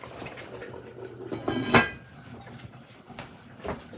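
A lid is set back onto a pot of braised beef short ribs in a home kitchen, giving one sharp metallic clatter near the middle with softer clinks of cookware around it, close by and with no talking.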